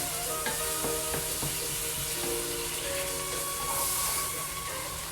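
Meat searing in a very hot pan for a Puerto Rican plantain pastelón, a steady loud sizzle with hiss running throughout and a few scraping stirs of a utensil near the start.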